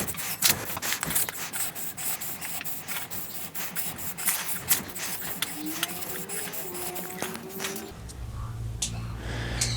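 A hardened chisel is worked by hand on a sharpening stone, close up, with rapid back-and-forth scraping strokes in an uneven rhythm for about eight seconds before a lower hum takes over.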